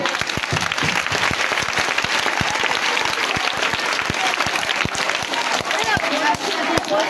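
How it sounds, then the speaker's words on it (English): Sustained applause from an audience at a public school computer lab handover event in Liberia, dense clapping filling the whole stretch with a few sharper individual claps standing out. "Let's give God a big clap."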